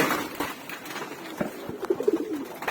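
Domestic pigeons kept in a flock coo softly with low, throaty murmurs that grow more frequent toward the end, set against a faint background hiss.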